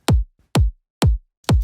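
Four punchy, EQ'd kick drum hits from a future house sample thump in a steady rhythm, each a deep, fast-decaying boom with a sharp click on top, dry and alone.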